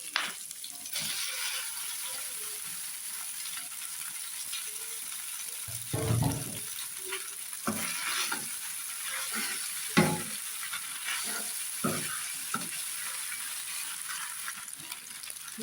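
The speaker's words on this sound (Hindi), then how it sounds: "अब मैक्रोनी डालती हूँ" Macaroni and vegetables stirred in a hot pan, a soft continuous sizzle with intermittent scraping and clinking of the spoon, fairly close.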